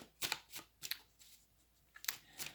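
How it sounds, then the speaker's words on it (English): Tarot cards shuffled in quick bursts of crisp riffling and flicking, several short clusters separated by brief pauses, close and fairly quiet with no talking. "Just like that shuffle."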